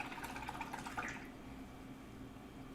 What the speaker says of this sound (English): and then I'll rinse it off in the water.